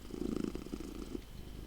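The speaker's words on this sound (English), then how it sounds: "You seem to have been purring for the last 20 minutes." A cat purring steadily up close, a soft continuous rumbling throb with a low hum underneath and no talking.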